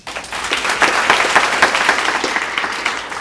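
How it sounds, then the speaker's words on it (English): A crowd at a college construction topping-out ceremony breaks into sustained, enthusiastic applause, dense clapping holding steady for a few seconds. "Just one more round of applause for Cloud Construction and Stantec"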